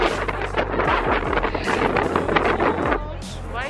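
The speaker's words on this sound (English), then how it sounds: "I just want to show you really how windy it is" Strong wind buffets the microphone in Times Square, New York, a loud continuous rumbling roar that gusts and churns steadily, with faint traffic beneath.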